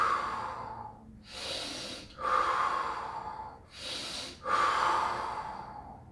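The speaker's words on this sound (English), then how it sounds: "You just stay up here and breathe." During a back-stretching exercise, a person takes slow, deep, close breaths, with about four audible inhales and exhales alternating in a calm rhythm and no talking.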